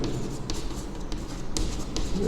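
Pen scratching on paper as numbers are written by hand for a class 9 maths lesson, a series of short close strokes with small pauses and no talk.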